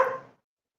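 A dog barks close by in one short burst that fades within a fraction of a second, with nothing following.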